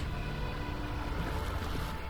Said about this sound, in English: Waves? Yes, they are.